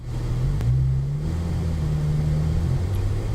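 A car pulls out along a track-day pit lane under light, steady throttle behind a red Lamborghini, its mid-pitched engine note holding close and even, rising slightly at the start, then easing off near the end.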